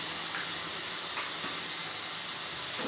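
Spice paste of ground tomato and turmeric sizzles in a pan with a steady, even hiss, close by and with no voices.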